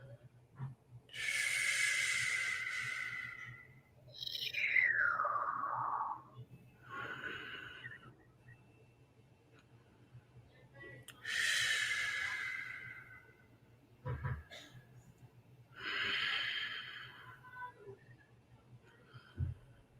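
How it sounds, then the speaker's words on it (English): Slow, deep breathing during meditation, close and quiet: about six long breaths in and out, airy and slightly hissing, with still pauses between them and a low steady hum underneath. "breathing into the heart space"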